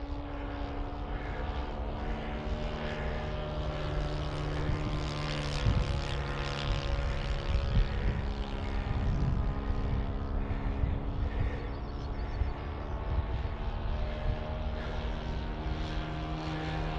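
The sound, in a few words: H-King PC6 Porter balsa RC model plane engine in flight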